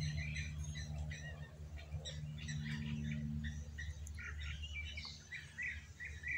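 Three blacksmith lapwings (plovers) flying overhead give repeated sharp metallic squawking calls in irregular bursts, moderately near against a low steady background hum, with no talking.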